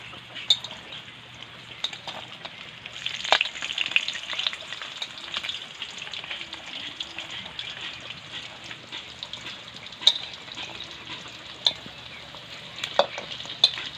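Chicharon bulaklak deep frying in hot oil makes a continuous soft sizzle and crackle at moderate level, with occasional sharper pops and spatters and no voices.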